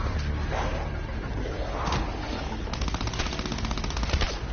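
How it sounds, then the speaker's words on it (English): A drum gun in a zombie shooter fires rapid automatic bursts, with a dense run of shots late on over game noise and clatter. "Oh, I was shooting at a dead zombie already."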